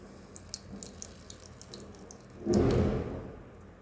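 Boiled herbal hair dye mixture being strained, a soft pouring and splashing of liquid that swells after quieter trickling and drips, close and alone.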